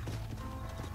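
A horse in the Western video game Red Dead Redemption trots with steady hoof clip-clops on the ground, joined by a whinny, heard close but fairly quiet over a dense game soundscape.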